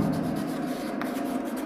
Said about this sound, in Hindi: तो लिखेंगे